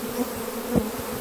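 A swarm of honey bees massing against the outside of a backyard hive makes a steady, close buzzing drone, with a few individual bees zipping past louder near the microphone.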